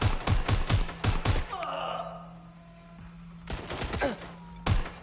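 Gunfire in Watch Dogs Legion cracks out in a quick burst of several close, loud shots, then a lull of mechanical whine and groaning sounds before a few more sharp shots ring out.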